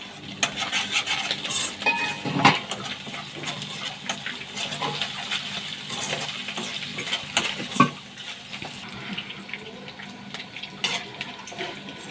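Coriander frying in a pan with a large spoon, the stirring audible as scraping strokes and occasional clanks against the pan over a low continuous sizzle, close and moderately loud, with no talking.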